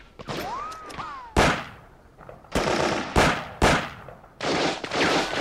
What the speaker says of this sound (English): That heavy gun is too well protected.